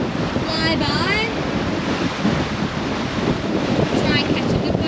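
Ocean waves wash steadily around a sailboat on an offshore passage, with constant wind rush across the microphone and a faint voice briefly audible in the background.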